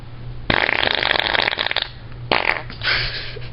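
Two loud, sputtering farts from a person, the first lasting over a second and the second shorter, close to the mic with no talking over them.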